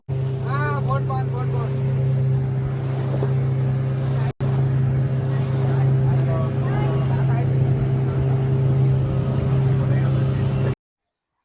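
Motorboat ride through a mangrove forest near Pondicherry, a loud steady engine drone with wind buffeting the microphone, a brief cut midway, and a voice speaking early on.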